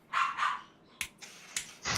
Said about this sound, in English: Dog's having a little fun back there.